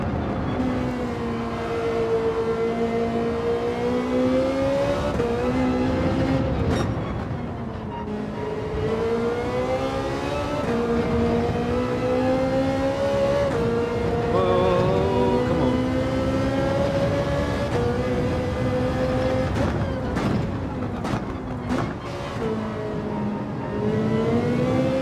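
Race car engines roar in Gran Turismo 7 during a daily race with a pack of Porsches behind, a loud, sustained onboard engine drone rising and falling with gear changes and throttle, no voice over it.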